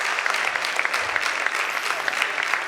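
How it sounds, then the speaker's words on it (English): Steady applause from an audience at a Kumon student award ceremony, a dense even patter of many hands clapping with no voices over it. "Can we have another huge round of applause for them?"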